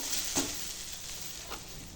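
Kharkol fries in a pan with garlic, green chilli and black cumin, a soft, steady sizzle heard up close, broken by a couple of faint stirring scrapes.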